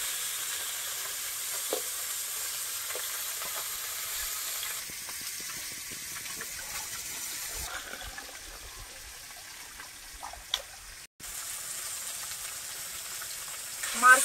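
Japanese puti fish fry in a pan on an outdoor stove by a pond, with a continuous close sizzle and bubbling running throughout, broken by occasional clinks and brief stirring noises, and a short dip near the end.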